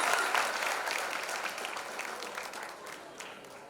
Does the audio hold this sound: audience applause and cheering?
yes